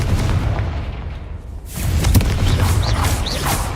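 Confringo blasting spell from a Harry Potter video game: a booming explosive burst erupts mid-clip over a dense, noisy rumble of game sound, followed by lingering crackle and whooshing effects.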